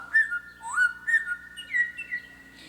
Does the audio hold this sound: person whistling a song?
yes